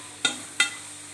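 Sautéing in a pan as coarse rock salt is added, with two brief scraping clinks of a spoon against the pan over a low, steady background hiss.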